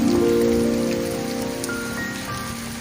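Heavy rain pours steadily onto surfaces outdoors, a dense, even hiss that stays loud and unbroken throughout, with no voices over it.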